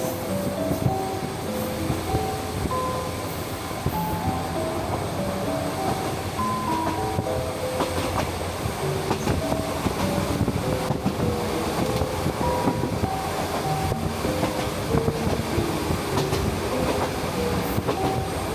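A Nichinan Line train rolls steadily along a coastal stretch, its wheels and cabin rumble constant and close throughout, with faint wind over the microphone and no talk.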